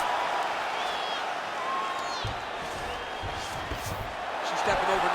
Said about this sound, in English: crowd pops as she reverses position